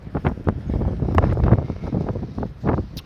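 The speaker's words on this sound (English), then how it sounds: "Now I'm in the wind." Wind buffets the microphone outdoors in a continuous, gusty low rumble with fluttering bursts, loud and close throughout.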